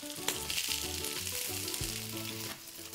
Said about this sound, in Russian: Котлетки наши жарятся.